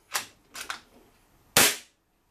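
An Air Arms S200 air rifle fires a single sharp, loud shot that ends in a short tail, with fainter clicks and knocks of the rifle being handled just before it and no one talking.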